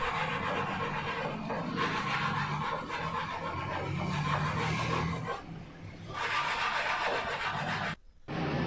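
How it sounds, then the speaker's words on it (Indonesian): Sandpaper rubs back and forth over the wooden frame of a bunk bed, a continuous scratchy rasping at close range with slight pauses and shifts in stroke, fairly soft overall. "Nah, seperti ini kita hamplas supaya halus dan rapih nantinya."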